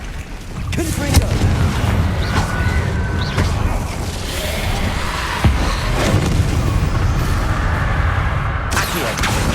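Spell blasts going off in Hogwarts Legacy on PS5: a dense, continuous battle din of booming impacts, crashes and swooshes, with a few sharper hits standing out above the noisy combat mix.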